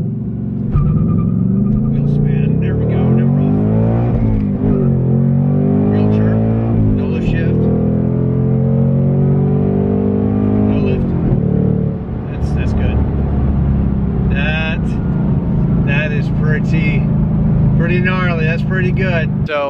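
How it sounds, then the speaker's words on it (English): A 2024 Ford Mustang GT V8 launching under launch control, engine rumble climbing and dropping through revs and gear changes, steady and loud beneath someone talking throughout. "But let's get up here and do some launch control."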